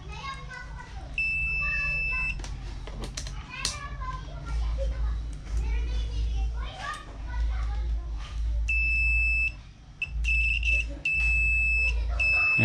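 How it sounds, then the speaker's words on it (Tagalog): A multimeter's continuity buzzer gives several short, high, steady beeps while probing the power board of a 32-inch Astron LED TV, with someone talking and children playing in the background. "So iset natin ito sa buzzer,"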